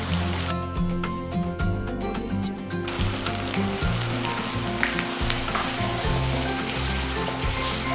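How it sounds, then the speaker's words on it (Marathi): Masala paste for restaurant-style kadhai paneer sizzles steadily in hot oil and melted butter, a loud, dense, continuous frying hiss with no talking. "तेल गरम होऊन बटर त्यात मेल्ट झालेलं आहे. आता आपण बनवलेली पेस्ट त्याच्यामध्ये ॲड करून घेऊयात."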